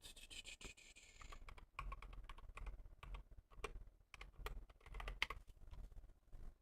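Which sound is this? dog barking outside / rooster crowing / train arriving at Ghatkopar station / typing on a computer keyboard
typing on a computer keyboard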